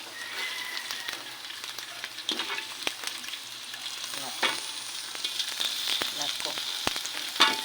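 Shrimp fry with browned garlic and onion in a pan, giving a continuous close crackling sizzle broken by sharp pops and stirring clicks, with no talk over it.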